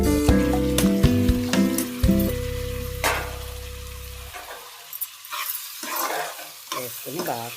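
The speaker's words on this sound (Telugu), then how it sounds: "బాగా ఇలా కలిపేసుకుని పచ్చిరొయ్యలు కూడా వేసుకోవాలి." Raw prawns being stirred into a drumstick curry in a pan, with a loud sizzle and scraping stir strokes over the first four seconds, then quieter clinks and soft stirring.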